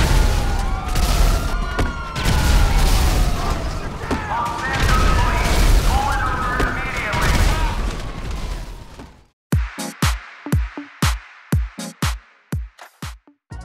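A compact grenade launcher in a video game fires a series of about eight heavy thumping shots, loud and evenly spaced, after a stretch of noisy combat with booms and a voice talking.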